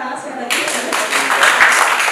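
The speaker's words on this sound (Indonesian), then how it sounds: "tepuk tangan sekali lagi" Applause at an Indonesian youth and sports ministry launch event, a broad crowd clapping that swells after a brief pause and stays steady and loud, with a voice talking over it.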